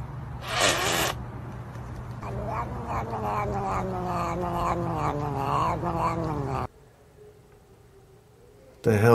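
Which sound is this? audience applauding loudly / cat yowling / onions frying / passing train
cat yowling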